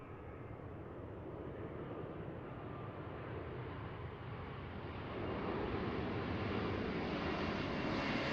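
Aircraft arriving from Tokyo on approach to land at Seattle airport, a steady broadband jet engine roar heard from a distance that swells louder toward the end.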